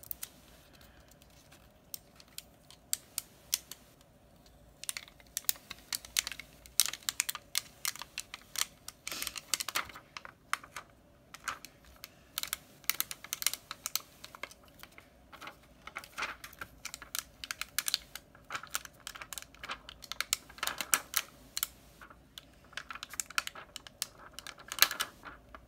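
Rhinestones being peeled up off a backing with sticky transfer tape for a shirt decal, giving many small crackling clicks and ticks in irregular bursts, close and fairly quiet, with no talking.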